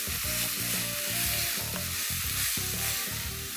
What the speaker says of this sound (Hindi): जिंजर गार्लिक पेस्ट को आपको सिर्फ 2 मिनट के लिए पकाना है।